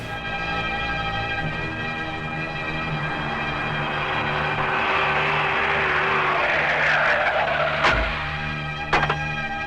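A taxi brakes hard in a Hindi action movie, its tires skidding in a long screech over a steady engine drone, ending with a couple of sharp thumps as it stops.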